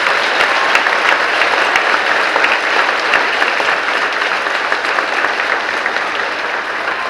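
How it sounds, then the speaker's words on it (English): A large audience at a spring choral festival gives four young male singers a loud, sustained round of applause, a thick, even roar of clapping with a faint crowd murmur that slowly softens toward the end. "Let's give these four young men a huge round of applause."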